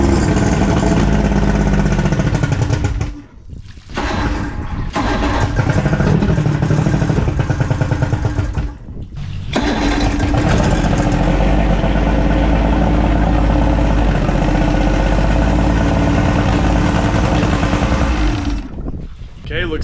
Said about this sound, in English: Looks like we got a good running motor back here.